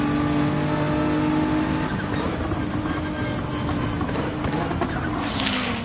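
Race car engines in Gran Turismo 7 drone and whine close by in a tight pack, steady high-revving tones shifting pitch as cars jostle, one passing near the end, with brief commentary over the top.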